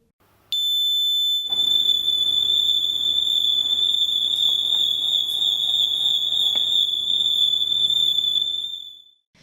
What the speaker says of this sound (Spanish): cuando cambia la velocidad del giro de la pelota, el sonido del zumbador cambia